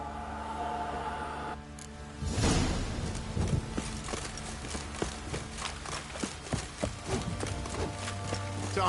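Horse hooves clip-clop in The Witcher 3, a steady, close, even rhythm that runs throughout after a brief whoosh near the start, with no voices over it.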